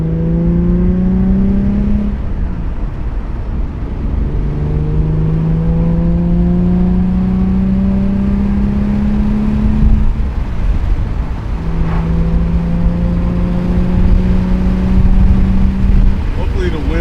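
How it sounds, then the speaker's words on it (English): A Nissan 350Z engine with stock exhaust revs up and settles in three long rising sweeps, a steady deep exhaust drone throughout, close and loud. "this is how it sounds with stock exhaust"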